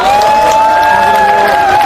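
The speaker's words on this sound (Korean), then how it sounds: "우리 중앙유세단 열동팀에게 다시 한번 뜨거운 박수 부탁드리겠습니다" A crowd at an outdoor political campaign rally in Gangwon, South Korea, fills the air with loud, continuous applause and cheering, with a steady tonal sound running beneath it throughout.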